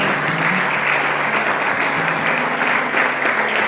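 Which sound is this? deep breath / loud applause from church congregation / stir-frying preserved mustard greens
loud applause from church congregation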